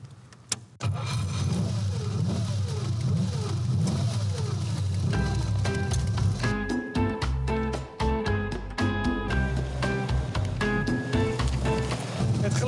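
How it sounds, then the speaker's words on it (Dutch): Engine of a 1951 Ferrari 212 Export Vignale Berlinetta starting and running, a brief cranking before it catches, then a loud close idle with sharp blips of revving; a voice talks over it. "Het geluid van de Ferrari"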